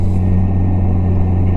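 A Polaris Slingshot SL with a 5-speed manual gearbox, driving along, a loud, steady low engine drone with a strong, even hum and road rumble, no voices.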